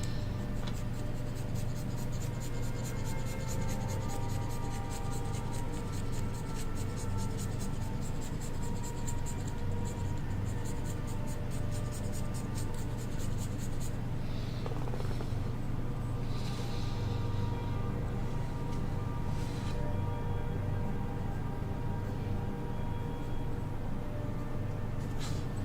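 Pencil or pen scratching steadily across cardstock paper during a sketching session, a continuous soft scraping texture with brief strokes and pauses, close and fairly quiet.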